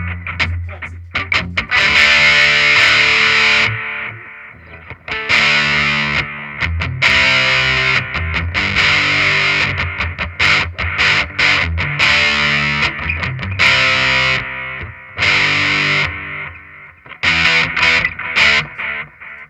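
Electric guitar played through a Donner Yellow Fall delay pedal with distortion, loud and saturated, with repeated chords and riffs trailing into echoing repeats for about twenty seconds without a break.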